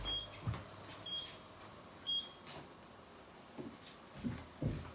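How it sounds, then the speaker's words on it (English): Three short, high electronic beeps from a kitchen alarm sound about a second apart, faint and thin over quiet room noise with a few soft knocks. "I'll just turn that irritating alarm off."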